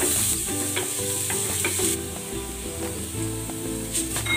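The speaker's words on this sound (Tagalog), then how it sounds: "Igigisa ko na tong bawang." Garlic sautés in hot cooking oil for a talong (eggplant) dish, making a loud, dense sizzle with repeated stirring scrapes and clicks from the utensil against the pan.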